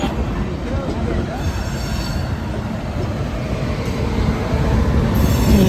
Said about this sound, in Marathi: पनवेलवरनं सुटली आहे मित्रांनो आपली ट्रेन आता